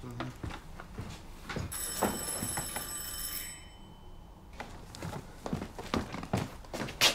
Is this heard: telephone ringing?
yes